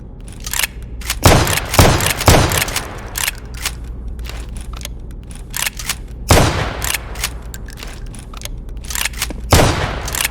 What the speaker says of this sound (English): see what a shotgun looks like and sounds like